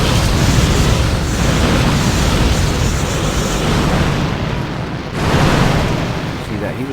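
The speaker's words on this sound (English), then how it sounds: "See those rocket launchers grilling him?" Rocket launchers firing and explosions roar without a break in the Boom Beach warships strategy game, loud, dense and booming for the whole stretch, with a brief dip near the end before the din returns.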